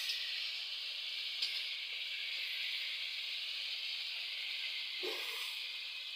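Spice masala for a meat curry frying in a pan, a constant bright close sizzle with a faint clink near the start and a brief stir near the end.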